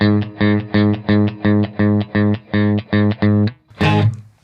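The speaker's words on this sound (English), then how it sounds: "I like the reverb." Electric guitar chords strummed in a steady repeated rhythm through a Strymon Iridium amp pedal, each chord ringing with reverb and a little distortion, ending in a noisy burst.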